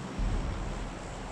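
A transport plane flies overhead in PUBG Mobile's Mini Zone mode, heard as a brief, low, steady rumbling drone that swells in at the start and holds.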